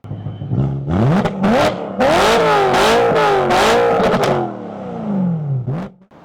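A BMW E90 M3 V8 engine revs hard several times in quick succession, pitch climbing and falling with each blip, loud and close, then settling to a lower idle.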